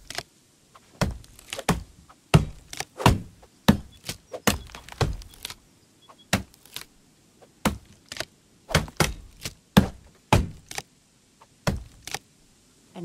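An NPC chopping down a tree in the medieval survival game Medieval Dynasty: sharp wooden axe chops land in an irregular series of about twenty close, loud strikes with brief pauses between them.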